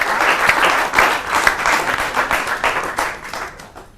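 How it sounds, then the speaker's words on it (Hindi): A crowd at a Holi stage show of comic poets on a news channel breaks into loud, dense applause, many hands clapping together in a continuous burst before it starts to fade. "एक बार जोरदार तालियों से स्वागत"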